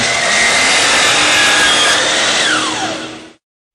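DEWALT miter saw slicing through crown molding, a loud close whine and rasp of the blade in wood that holds steady for about three seconds before cutting out abruptly into silence.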